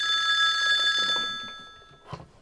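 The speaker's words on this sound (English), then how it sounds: "Oh, there's that phone again." An old-style telephone bell rings loudly and steadily, then fades out, leaving a faint short knock near the end.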